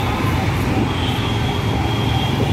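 Metro train rumbling past amid dense city traffic at a construction area, a steady loud low roar with constant hum and hiss throughout, no clear gaps, some voice-like murmur mixed in.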